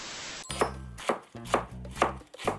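A knife chops food on a cutting board in five steady, evenly spaced thuds, close and crisp.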